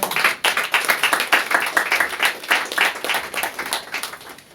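A church congregation claps and applauds in a dense, even burst of many hands, loud and close, holding steady for several seconds with no talk over it.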